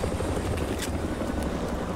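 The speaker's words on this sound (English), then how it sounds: "The helicopter came through and took care of that shit" A helicopter in a Call of Duty campaign mission makes a dense, steady rotor roar that fills the whole moment, loud and close, without any voices over it.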